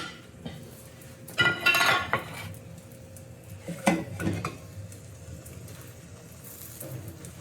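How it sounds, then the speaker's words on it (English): A serving plate and dishes clatter and clink as they are handled in a home kitchen during cooking, with two loud bursts of ceramic and metal contact over a quiet sizzling background. "Let me grab my serving plate."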